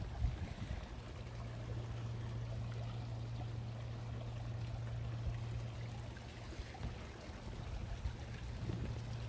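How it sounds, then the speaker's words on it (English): Water trickling and running at a partly frozen waterfall outdoors in cold weather, a steady soft rushing wash with a low hum beneath, continuous and even throughout. "Frozen waterfall. It's a little bit of water moving."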